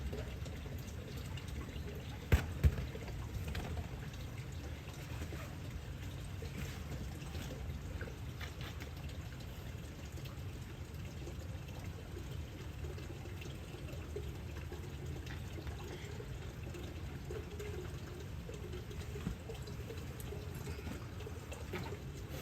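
Water trickles and flows steadily outdoors in Arashiyama, Kyoto, making an even, continuous wash of moderate loudness with a couple of brief clicks near the start.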